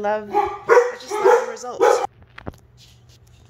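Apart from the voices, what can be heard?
dog barking indoors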